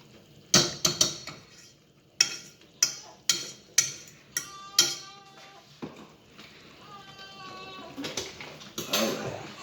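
Spoon clanking and scraping in a pot while tuna casserole sauce made with sour cream is stirred, a run of sharp metallic knocks followed by softer scraping and a brief squeak, fairly close.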